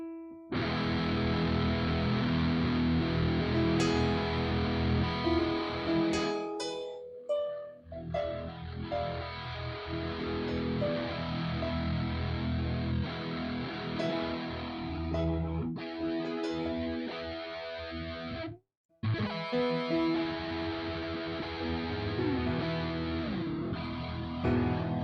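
Recorded piano piece played back from a DAW session, a full, sustained stretch of notes and chords with a brief dropout near the end, no voices.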